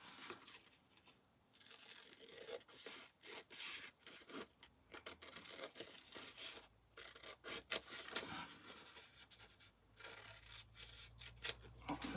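Scissors snip through a paper junk-mail envelope in faint, close, irregular cuts mixed with soft rustling and rubbing of the paper.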